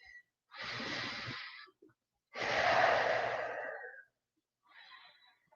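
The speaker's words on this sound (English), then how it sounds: "and breathe" Deep, slow breaths during a yoga stretch for jiu-jitsu practitioners: two long, loud, close inhale-exhale sounds, each lasting over a second, then a fainter third breath, with no talking.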